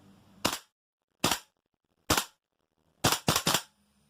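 A Tokyo Marui AKM gas blowback airsoft rifle, fitted with a Bow Master 130% recoil spring, fires six sharp, loud cracking shots close up, three spaced singly and then a quick burst of three, each with a clacking bolt cycle.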